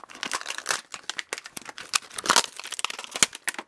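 Strong, wide tape is peeled off the side of sealed, new-in-box Littlest Pet Shop G4 toy packaging, giving close, rapid bursts of crinkling and ripping that come in uneven runs with no voices.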